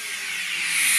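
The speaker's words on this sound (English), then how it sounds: "That was just making that steam release noise." Steam release hiss from a model train locomotive running on old track on a logging railway layout, a steady loud hiss lasting about a second, gradually swelling, with no talking.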